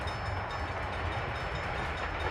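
Trains in a railway management video game rumble steadily with a broad, continuous rolling noise, moderately loud and unbroken throughout, with no voices over it.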